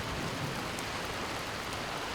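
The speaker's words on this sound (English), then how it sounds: "it's gonna rain the rest of the day" Steady, soft rain falls throughout, an even wash of hiss with no breaks and no voices.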